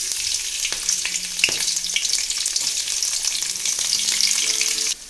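Garlic, ginger and chopped chilies hit hot oil in a wok and fry with a loud, continuous crackling sizzle and a few light utensil taps, ending abruptly.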